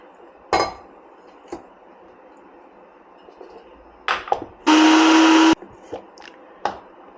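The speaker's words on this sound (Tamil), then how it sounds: "3/4 கப்பு தேங்காய் பூ எடுத்துருக்கிறேன். அதை நைஸாக இப்போ அரைச்சிக்கணும்." A kitchen blender grinding grated coconut with water roars in one loud burst of under a second, surrounded by scattered clinks and knocks of dishes and utensils, with no voices.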